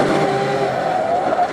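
Race car on a motorsport circuit roaring past at close range, a steady loud engine note with a rising pitch sweep near the end, no separate impact burst standing out.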